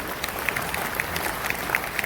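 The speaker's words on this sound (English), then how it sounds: "I'd love you to congratulate them by a round of applause" Faint, distant applause from a seminar audience at a real estate shareholder summit, a soft steady patter of clapping with a few sharper claps poking through.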